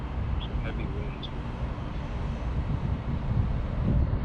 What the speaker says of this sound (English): I feel like gusts of wind